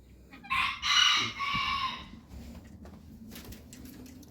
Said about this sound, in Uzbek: Hali yana tovuqlar bor.